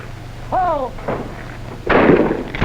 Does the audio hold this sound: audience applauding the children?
no